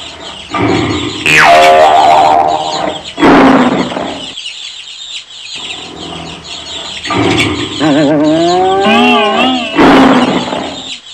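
Lion roaring as a story sound effect, loud, close and drawn-out, in several bursts with short pauses between them, alongside bird-like calls near the end.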